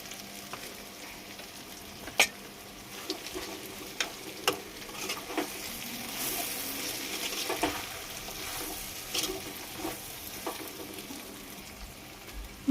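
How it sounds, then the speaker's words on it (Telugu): Raw prawns sizzle and fry in a brinjal curry as a spoon stirs them in, a soft continuous frying hiss broken by occasional clicks and scrapes, fairly quiet and with no talk. "ఇప్పుడైతే నేను పచ్చిరొయ్యలు వేసుకుంటున్నా. ఇవి వేసేసుకొని బాగా కలుపుకొని"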